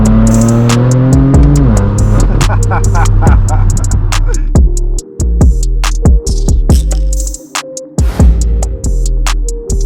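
A BMW M4 F82 with the S55 engine revs hard in a series of rising and falling blips over a deep throbbing idle. It is loud and close, with sharp throttle stabs and brief drops in between.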